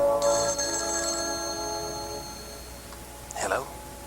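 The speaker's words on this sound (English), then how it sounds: "Suddenly the phone rang." A telephone rings in a quiet early-morning home, a steady electronic ringing tone sustained for about two seconds at moderate volume, then fading, followed by a short burst of voice.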